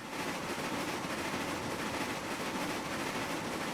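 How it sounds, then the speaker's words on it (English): Steam locomotive in the Railroads Online video game, a steady dense rushing chug that holds constant and fairly loud without a clear beat. "The pitch of the chugging sound changes with the speed of the train."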